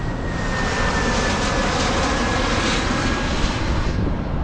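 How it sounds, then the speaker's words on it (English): A large airplane passes overhead above a road in Florida with a loud, steady, broad engine roar that holds throughout. No voices are present. "Whoa, big ass airplane."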